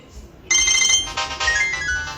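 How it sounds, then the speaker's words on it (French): A phone ringtone sounds loudly and alone, starting after a brief quiet moment and continuing in steady, repeating electronic bursts. "Le téléphone sonne."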